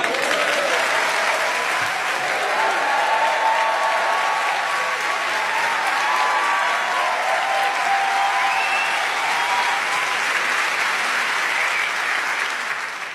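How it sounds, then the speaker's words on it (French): Audience applause at a French stand-up comedy show, a loud, sustained wash of clapping that holds steady for over ten seconds before easing slightly at the end, with no speech over it. "C'est la première fois qu'on m'applaudit autant parce que j'ai fait 3 mètres."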